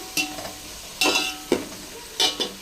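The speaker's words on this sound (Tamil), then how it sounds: "வெங்காயம் நல்லா வதங்கிடுச்சு." Onions sautéing in a pan give a quiet sizzle under four distinct spatula scrapes and stirs, close and spaced about a second apart, with no one speaking.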